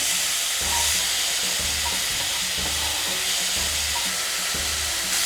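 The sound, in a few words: pork being stir-fried in a pan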